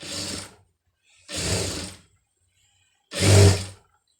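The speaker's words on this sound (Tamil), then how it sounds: "அதுக்கு மேலே அப்படியே வந்து தையல் போட்டுருங்க" A sewing machine stitches a fabric strip for a patti joint, running in three short bursts of whirring motor noise, each under a second long and separated by pauses, close by and fairly loud.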